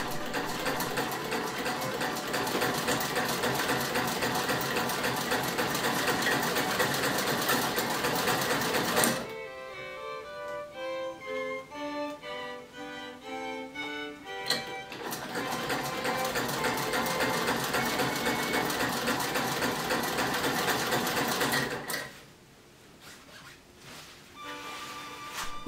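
A sewing machine stitches fabric for a Victorian costume, running steadily and close for long stretches. A short break in the middle brings lighter clicks and handling, then the whirring resumes before stopping near the end.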